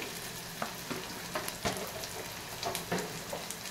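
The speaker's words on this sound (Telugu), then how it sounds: "తర్వాత అల్లం వెల్లుల్లి పేస్ట్ ఆయిల్లోనే వేయాలండి" Ginger garlic paste sizzles in hot oil for a bendakaya egg pulusu, a continuous close crackling fry with scattered louder pops and spatters throughout, no voices.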